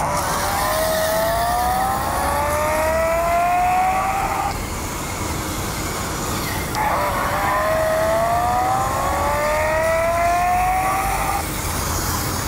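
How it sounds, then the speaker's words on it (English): A JJRC Q45 RC car's steering servo runs with its G-sensor on, giving a whining electric tone that climbs in two long sweeps, separated by a short pause, over a constant hiss. "So as you can hear, the servo is running when the G sensor is on"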